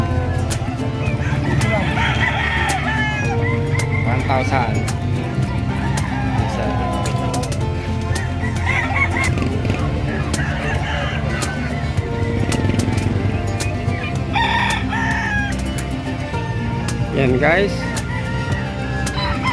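Chickens and roosters cluck and crow at a livestock market in San Carlos City, Pangasinan, with loud continuous crowd chatter and vendors talking over the birds.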